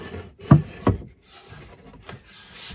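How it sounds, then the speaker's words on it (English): A wooden backsplash piece being sanded inside a bus conversion, two sharp scraping strokes near the start followed by lighter, fainter rubbing passes, close and alone. "What I will need to do now is to sand this piece"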